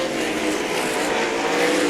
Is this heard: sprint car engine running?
yes